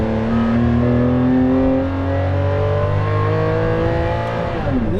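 Engine of a Maserati MC12 supercar revs loudly and close by. The tone rises and falls across several seconds in one continuous pass, with no voices over it.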